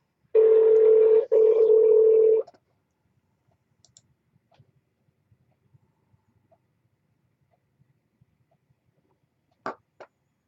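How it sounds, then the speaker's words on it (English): A landline telephone dial tone hums steadily for about two seconds, briefly cut once, followed by near silence with faint sparse clicks and two short tones near the end as a number is dialed. "Make a phone call here."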